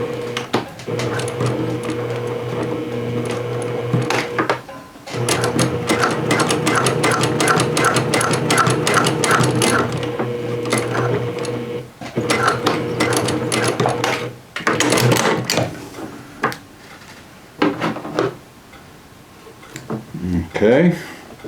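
A home sewing machine stitches denim jeans, its rapid mechanical chatter running in several loud bursts separated by short pauses.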